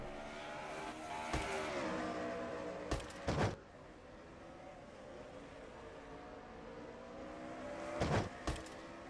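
Race truck engines in a sim racing game at the Sonoma road course hold a steady, continuous drone with rising and falling pitch as the trucks accelerate and shift, broken by a few short sharp bursts, with no talking.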